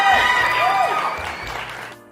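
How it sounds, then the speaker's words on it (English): Recorded applause and cheering from a crowd at Wrigley Field, a dense, steady roar of clapping and voices that fades out near the end. "You guys hear the applause there and the cheering and such?"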